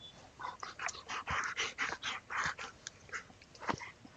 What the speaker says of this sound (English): my puppy is wanting some attention